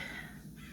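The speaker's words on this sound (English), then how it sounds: "Excuse the birds" Crows caw outdoors through open windows and doors on a hot day, a short, fairly faint burst of calls heard at a distance indoors.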